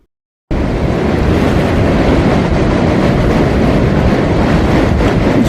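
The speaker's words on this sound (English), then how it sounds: "Rapids, a little more dramatic than I thought they were going to be." Rampart Rapids on the Mackenzie River roar with a loud, steady, broadband rush of turbulent whitewater that starts suddenly after a brief silence and continues unbroken.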